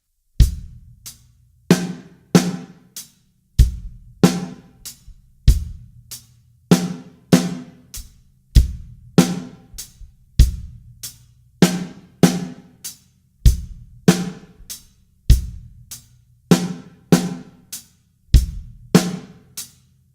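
A full drum kit beat plays alone: steady kick and snare hits with crisp hi-hats keeping a regular rhythm throughout.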